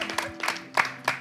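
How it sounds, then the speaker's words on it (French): A small audience claps for Maman Océane at an end-of-season gathering, a few scattered hand claps in uneven bursts, fairly quiet and close. "On applaudit pour Maman Océane."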